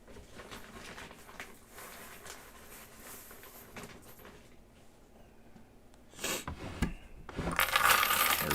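Coins are handled in a bag of mixed uncirculated 1950s coins, giving sporadic metallic clinks and jingles, then louder rustling and clattering bursts near the end as they are dropped.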